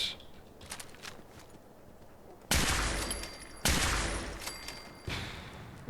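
Sniper rifle gunfire in the Fallout 4 video game: two loud, close, sharp shots roughly a second apart, each with a long rolling decay, followed by a third weaker report, all over a quiet ambient game background.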